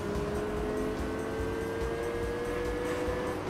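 Nissan Skyline GT-R Nismo in Gran Turismo 3 roaring at steady high revs, a continuous loud engine drone with rising tonal harmonics that holds for a few seconds, with no talk over it.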